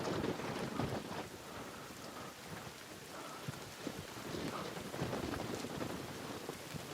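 Steady, dense rainfall in the video game The Forest hisses continuously with low rumbling underneath, like a downpour with distant thunder, no voices present.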